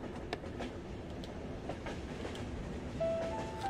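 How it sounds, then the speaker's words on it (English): A train ride in the video game Yume Nikki gives a steady rolling rumble with soft, rhythmic clickety-clack and a faint tone near the end, continuous and without speech. "So go back on the train."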